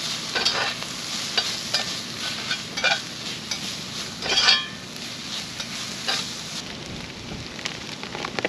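Garlic sautéing in a pan over a fire pit at a windy campsite, a soft continuous sizzle broken by repeated scraping stirs and a few louder clatters of the utensil.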